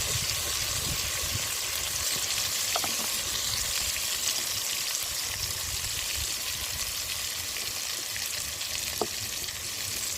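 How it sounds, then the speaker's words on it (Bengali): Chopped tomatoes frying in oil in a pan, a continuous dense sizzle held at an even level throughout, with a couple of faint clicks underneath and no talk. "টমেটোগুলো তেলের মধ্যে দিয়ে একদম কষিয়ে নেবো তেলের মধ্যে"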